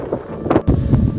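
Gusty outdoor wind buffets the microphone on a snowy day, rumbling low and uneven with short louder bursts and a brief dropout partway through.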